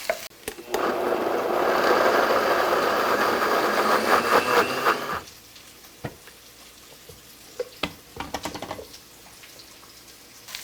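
A blender whirs loudly and steadily for about five seconds, puréeing a cup of cooked beans for Brazilian beans and rice, then stops, leaving scattered clicks and knocks.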